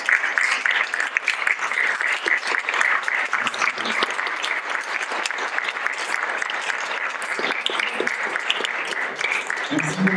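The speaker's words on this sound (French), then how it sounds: "Frédéric Sen, sous vos applaudissements, mesdames et messieurs" An audience in a comedy club bursts into sustained applause, dense steady clapping that holds for several seconds before tapering slightly.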